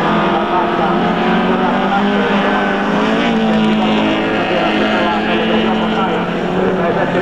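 Racing cars circling the track at a youth and women's league event, a continuous loud engine drone with a whining rise and fall, while a commentator talks over it.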